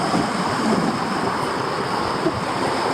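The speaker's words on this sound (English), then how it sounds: "Still windy," Wind gusting along an English seafront in October, a steady broadband roar with buffeting against the microphone and a surf-like wash, continuous and fairly loud with no speech.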